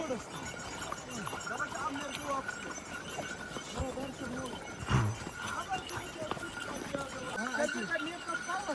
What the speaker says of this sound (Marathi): तसे आपला घोडा कसा चालत असेल.